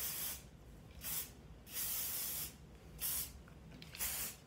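Flexible hairspray sprayed onto hair in short bursts, five quick hissing sprays spaced about half a second apart, close and fairly quiet, with no talking.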